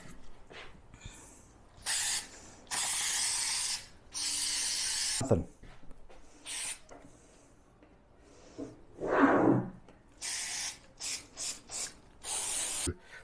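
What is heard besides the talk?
Permatex heavy duty spray adhesive being sprayed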